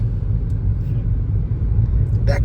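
Tractors pulling sugarcane carts roll past on a road near Karad, Maharashtra, a steady low rumble of engine and wheels filling the whole stretch, with a brief brighter clatter near the end.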